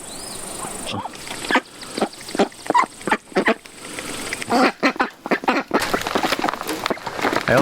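Several ducks quack in irregular bursts, some overlapping, close by and fairly loud, with short pauses between calls.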